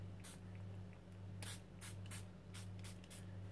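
Light blue colour spray mists onto an art journal page in quick bursts, about eight short hissing sprays with brief pauses between them, close and soft.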